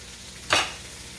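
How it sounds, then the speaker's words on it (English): Floured cube steaks drop into a hot pan and burst into a loud sizzle that swells, then settles into steady frying hiss, alone without talk. "Now we're just gonna let them fry here for a few minutes."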